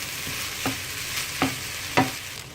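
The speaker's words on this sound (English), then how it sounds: "And then again start to fry it really well." Idiyappam noodles with a little sweet sauce fry in a pan as a steady sizzle, broken by three distinct scraping stirs spaced evenly apart. No one speaks.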